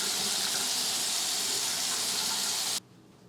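Tap water gushes steadily into a sink during face washing, a loud even rush that stops abruptly near the end.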